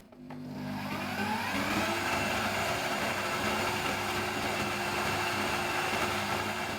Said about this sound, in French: si vous voyez que votre mixeur souffre un petit peu, n'hésitez pas à faire des pauses pour épargner le moteur